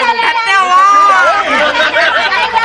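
Loud, steady hubbub of a packed railway platform crowd, many voices talking at once up close, with a faint snicker of laughter in the mix.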